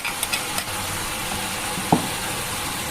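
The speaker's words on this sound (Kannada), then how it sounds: "ಈಗ ಹುರಿದಿಟ್ಟಿರೋ ಡ್ರೈ ಫ್ರೂಟ್ಸ್ನ ಹಾಕ್ತಾಯಿದ್ದೀನಿ" Roasted dry fruits go into carrot halwa in a pan, with a steady soft sizzle and stirring and one brief clatter partway through.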